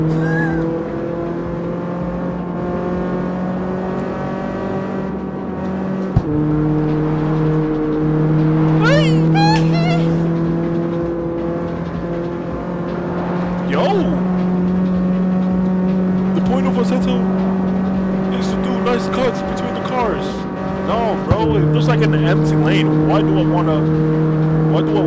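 A car engine in the street-racing game CarX Street drones steadily at a constant pitch, dropping briefly with gear shifts, while a voice talks over it throughout.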